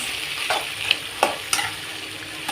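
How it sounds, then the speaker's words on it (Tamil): Chickpea sundal being stirred with salt in a pan, a steady soft sizzle broken by several distinct scraping stir strokes, close and fairly loud, with no talking. "உப்பு தேவையான அளவுக்கு போட்டுக்கலாம் போட்டு நல்லா கிளறி விட்டுக்கலாம்"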